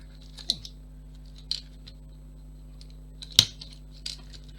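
A few faint, close snips and small rustles come from cutting material for a miniature molten base, spaced out over a low steady hum.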